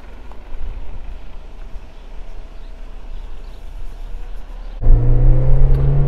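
A Suzuki Jimny fourth-generation petrol SUV drives steadily at a low engine rumble, then the engine note suddenly jumps louder and higher as it accelerates hard near the end, heard from inside the cabin without talk.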